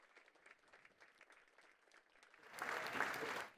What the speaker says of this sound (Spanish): Y con este aplauso